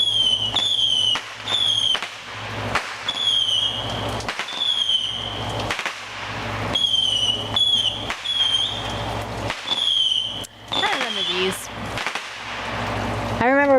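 Neighborhood fireworks go off in a rapid series of sharp bangs and crackling bursts, some followed by whistling, loud and repeated throughout with brief pauses between volleys.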